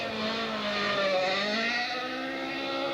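A 1980 Ford Escort RS 1800 rally car with a 2-litre BDA engine revs hard off the start line, the throttle worked up and down in a loud, continuous, rising and wavering engine note.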